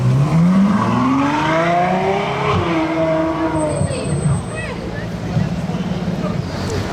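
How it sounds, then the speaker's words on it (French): Ferrari 812 Superfast passing on a Monaco street, a loud engine note rising and falling in pitch as it goes by, then fading into street noise while someone talks. "il y a une 812 Superfast qui passe ici"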